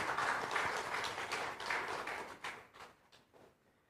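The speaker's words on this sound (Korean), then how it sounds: "우리 하나님께 영광의 박수 함께 올려드리겠습니다." Congregation at a Korean church's Sunday worship service in Tashkent giving applause, a warm roomful of clapping that holds steady and then thins into a few scattered final claps as it fades.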